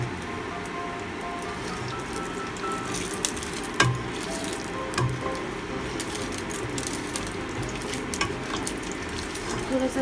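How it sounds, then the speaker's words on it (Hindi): White oil heating in a kadhai on a home stove gives a steady soft sizzle and crackle, with a few louder pops and faint clinks throughout. "और इसमें मैं डालूंगी व्हाइट ऑयल।"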